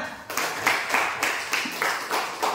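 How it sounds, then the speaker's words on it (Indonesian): A group of people claps together in a steady, rhythmic burst of applause, with even, repeated hand claps at a moderate pace and close, clear volume, lasting a couple of seconds. "Oke, tepuk tangan semuanya."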